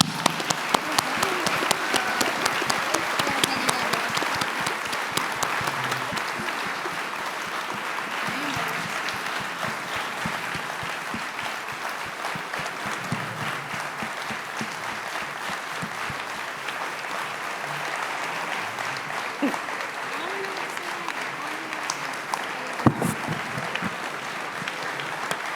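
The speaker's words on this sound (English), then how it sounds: "Let's give Liz a round of applause." Indoor audience at the Spark of Hope 2019 event applauds loudly, with dense, sustained clapping from a sizable crowd that holds strong for nearly half a minute and thins only slightly along the way.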